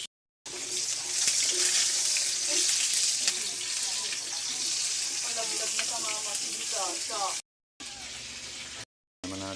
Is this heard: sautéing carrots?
yes